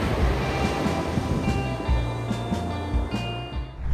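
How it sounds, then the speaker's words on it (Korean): Waves breaking at Hanseom Beach in Donghae, Gangwon, with a continuous roar of surf and several low swells washing in one after another, close and steady, with no voices. "시원한 바다소리를 들으면서 힐링할 수 있는 곳이니까요"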